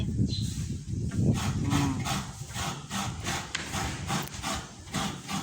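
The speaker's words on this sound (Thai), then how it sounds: "นี่เป็นกระต่ายสำหรับขูดมะพร้าว" A traditional Thai rabbit-shaped coconut grater shreds coconut flesh in a steady run of repeated rasping scrapes, close and fairly loud, with no talk over it.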